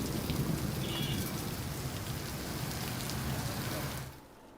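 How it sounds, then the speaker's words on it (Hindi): Steady rain pours down in Sendhwa, Madhya Pradesh, a dense continuous hiss of drops on surfaces that holds at an even level, then drops away sharply near the end. "ये देखिए, लगातार बारिश का सिलसिला यहां जारी है।"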